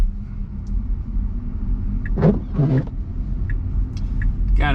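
Tesla car wheels spinning in snow, a low, continuous rumble with brief scraping surges, heard from inside the vehicle at moderate loudness with no talking.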